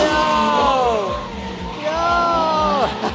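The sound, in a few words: drift cars screaming around corner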